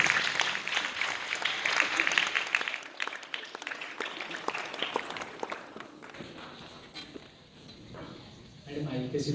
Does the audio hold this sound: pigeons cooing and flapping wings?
no